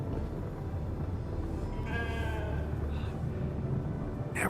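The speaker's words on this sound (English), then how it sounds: "Never thought I'd be so glad to see a sheep." In the video game The Alters, a sheep gives a short wavering bleat close by, followed by a fainter second call, over a steady low ambient hum.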